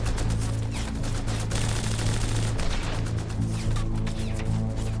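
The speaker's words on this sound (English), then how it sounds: "and open fire to clear the way" Sustained, loud gunfire of rifles and machine guns as a WWII rescue force opens fire on a Waffen-SS roadblock near Itter village, with dense overlapping bursts and no let-up across the whole stretch.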